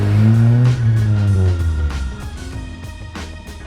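A 1999 Honda Civic VTEC coupe revs and pulls away, its deep drone rising in pitch through the gears before easing off, heard close with no talk.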